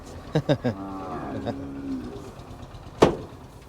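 Cattle for sale at a Thai market low loudly several times, a longer drawn-out moo following a few sharp calls, with a single loud knock near the end.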